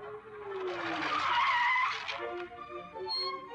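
A car accelerates and skids, its engine rising in pitch before a long, loud tire squeal that fades, heard close with no talking.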